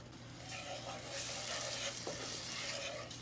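Rasta pasta sauce with minced garlic, thyme sprigs and Walker's Wood mild jerk seasoning being stirred in a pan. A soft, steady sizzle and scraping swirl run continuously at low volume, with a faint hum underneath.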